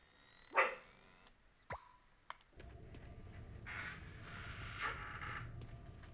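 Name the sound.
dog barking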